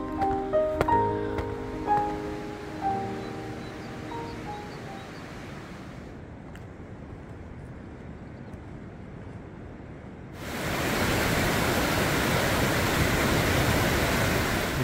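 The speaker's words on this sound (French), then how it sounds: "il y a le torrent qui coule" A mountain torrent rushes continuously at the front of the Zinal glacier beside an ice cave, a steady broadband roar that swells louder and nearer partway through, with faint clinks early on.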